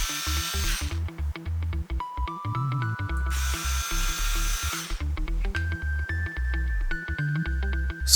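Bosch IXO cordless screwdriver motor whirring close up in several steady bursts, its pitch holding level within each run and shifting between runs, with short pauses and mechanical clicks in between.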